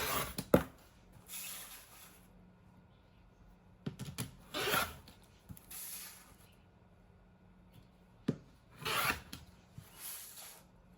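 Fabric strips cut into 5-inch squares, heard as three or four separate bursts of close, dry rasping cuts with pauses between them and no talking.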